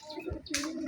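Domestic pigeons kept at a home loft in a village coo at close range, one soft low throaty call followed by a brighter chirp-like burst.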